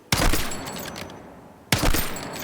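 Two sharp gunshots from the Battlefield 6 open beta, about a second and a half apart, each a loud punchy crack followed by a decaying rumbling tail, with no talk over them.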